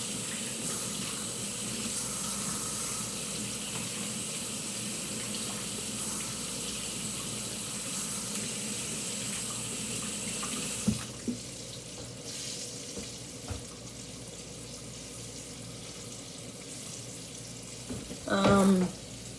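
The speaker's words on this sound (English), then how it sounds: "Now let me just rinse my hands off so I can" A running kitchen tap while hands are rinsed: a steady hiss of flowing water for about eleven seconds, then the flow stops, leaving faint clinks and a brief knock near the end.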